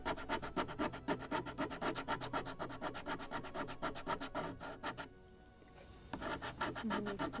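A file rasps against the wooden part of a Model Shipways kit of the 1776 gunboat Philadelphia to bevel its edge. The scraping strokes come close and rhythmic, pause briefly, then start again.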